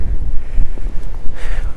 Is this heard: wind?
yes